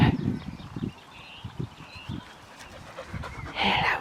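A dog pants in quick, uneven bursts close by, with a brief higher whimper near the end.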